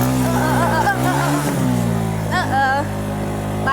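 A motorcycle stuck on a rough road to a temple near Swaik lake revs hard and steadily, its loud, close engine drone swelling and holding throughout, with voices briefly audible alongside.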